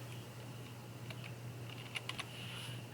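Keys on a computer keyboard are tapped while writing in Microsoft Word, giving a faint, sparse handful of soft clicks over a steady low electrical hum, with no talking.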